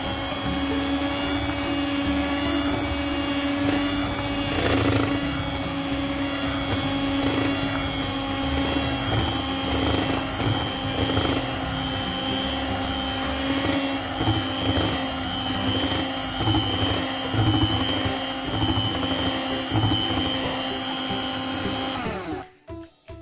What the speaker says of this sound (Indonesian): kemudian masukkan tepung terigunya sedikit demi sedikit, beberapa tahap ya. Lalu mixer kembali.